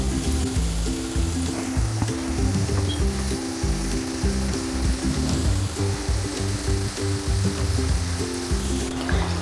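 Chicken samosas deep-frying in oil, a steady dense bubbling sizzle that fills the whole stretch, loud and close with no pauses or voices.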